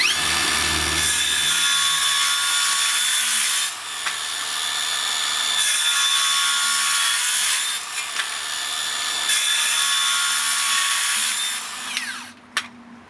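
A 125mm cordless circular saw, a Makita 40v or HiKOKI 36v, whines loudly at high speed in several long free-running bursts separated by brief dips, then spins down with a click at the end.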